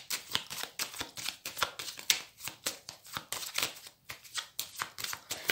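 A deck of tarot cards is cut and handled, giving a steady run of soft, crisp card flicks and taps that repeat quickly for several seconds, close to the microphone, with no talking.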